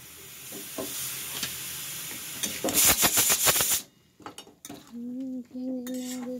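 Ingredients for a vegetarian dish are mixed in a pan with clattering utensil strokes and a soft sizzle, then a burst of rapid scraping, a pause, and a few tonal clinks near the end.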